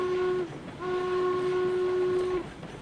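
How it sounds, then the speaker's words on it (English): Steam locomotive whistle from the RailRoads Online video game, a flat steady tone blown twice, a short blast then a longer sustained one, loud and close, with no talking. "that whistle is kind of just flat and disappointing nowadays"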